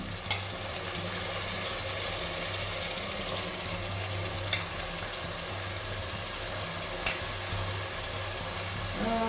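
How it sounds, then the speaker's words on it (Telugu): Washed mutton pieces go into a hot pan for a home-made mutton curry, giving a continuous, even sizzle with a few sharp clicks of utensils against the pan and no speech. "లాస్ట్గా కడిగి ఈ విధంగా మటన్ వేసుకుంటున్నాను"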